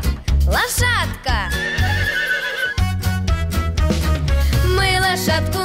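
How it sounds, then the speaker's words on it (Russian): A loud horse whinny rises and falls over bouncy children's song music, followed by clip-clop hoofbeats and more musical accompaniment. "Отгадай скорей загадку, кто же там стоит? Лошадка!"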